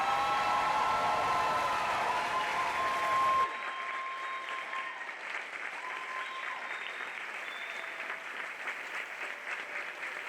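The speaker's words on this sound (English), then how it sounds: "Now let's give them one more whooping round of applause." Audience applause at a nursing white coat ceremony, a dense, loud burst of clapping that fills the room and then settles into a softer, steady patter over faint background tones.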